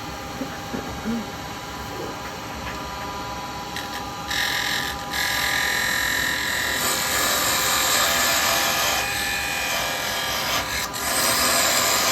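A laburnum bud vase is parted off on a wood lathe with a carbide chisel, a steady motor drone joined by a loud, sustained scraping cut that rises partway through and then holds. It is close and continuous, and no one speaks.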